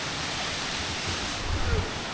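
The Emerald Pool waterfall in Dominica pours into a pool with a steady, dense rushing roar that fills the whole scene, heard from a nearby viewing platform.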